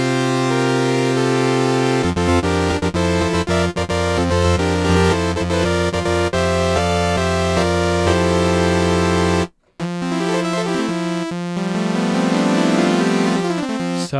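A Jupiter-8 synth emulation in UVI Vintage Vault 3 on a blank default patch holds a loud, bright, sustained chord tone that shifts through several notes, cuts out briefly, then returns with a sweeping filtered texture. No voice accompanies it.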